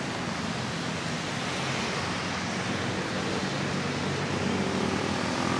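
Strong Typhoon Uwan wind roars steadily in Pasig with moderate rain, a dense continuous rushing wash, loud and unbroken, with no voices.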